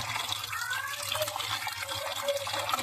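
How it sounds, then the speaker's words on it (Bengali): Hilsa fish from the Padma river being rinsed in water, with steady splashing and running water close by, continuous and moderately loud with no talking. "এখন আমি মাছগুলি ধুয়ে নেব ভালো করে"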